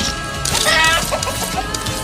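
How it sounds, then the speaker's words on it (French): Chicken clucking plays as an easter egg in the Call of Duty Black Ops 6 menu: a short, close series of clucks over a steady tonal background with no speech. "c'est le bruit d'une poule"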